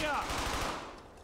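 Dense rapid gunfire from the World War II shooter Brothers in Arms: Hell's Highway, a loud continuous burst of automatic fire that dominates the short stretch and tapers slightly toward the end.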